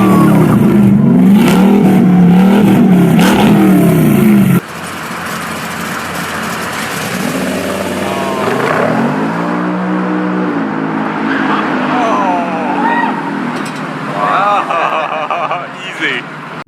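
A vintage car built on a 1907 American LaFrance fire truck chassis, powered by a 12.3-liter quad turbo V16, starts and revs, deep rumbling swells rising and falling loud and close, with voices talking over the first seconds.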